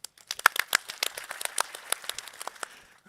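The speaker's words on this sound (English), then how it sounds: "I really want all of us to give a round of applause to everyone that was out there that helped make this work" Scattered clapping from a modest audience at a live energy conference, individual hand claps irregular and fairly distant, slowly thinning out over a few seconds with no speech.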